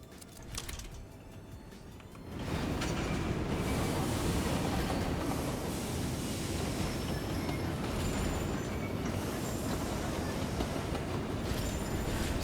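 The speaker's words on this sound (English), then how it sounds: "I think I see the other train going in" A deep, steady rumble of a train in the video game Railgrade rolls in and holds loud and constant, with faint hissing above it and no voices.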